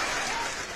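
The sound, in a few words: person clapping hands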